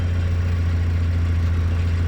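A Porsche 944 engine idles steadily with its power steering pump whirring, a close, even low drone holding unbroken throughout with no talk.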